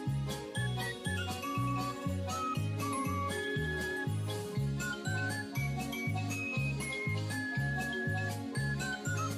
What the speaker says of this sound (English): I don't know what it is about this like whistle sound font that they use in these Mario Kart games